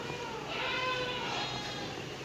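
Cattle on a beef fattening farm let out a single drawn-out, bleating call, fairly close and clear against a steady background hum.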